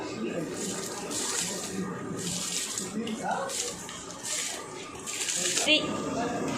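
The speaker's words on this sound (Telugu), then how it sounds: "ఇక్కడ నేనైతే బియ్యం వేసేస్తున్నాను." Rice tipped into a large pot of boiling water for a 5 kg Andhra-style mutton pulao, with a rushing, splashing pour over a continuous bubbling background and voices speaking nearby.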